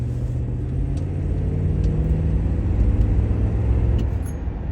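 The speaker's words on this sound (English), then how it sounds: "That's what a healthy Crown Victoria transmission sounds like" A steady drivetrain drone with a faint whine on top, continuous and fairly loud, rising slightly in intensity toward the end. A healthy transmission in first gear on a 1999 Ford Crown Victoria LX HPP.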